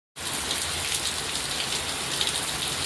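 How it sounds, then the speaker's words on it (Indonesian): Steady rain pours down over a village in the rainy season, a dense, unbroken hiss of drops on surfaces that begins abruptly and stays even and loud throughout. "ini turun hujan terus sampai sekarang itu nggak reda-reda ya"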